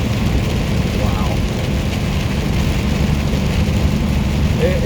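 Steady rain and road spray while driving on the I-90 highway in Ohio and New York, a dense constant hiss with low road rumble throughout, no speech heard.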